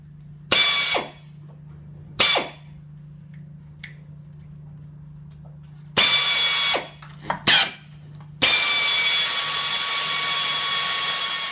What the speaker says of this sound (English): mark and then drill through this existing box member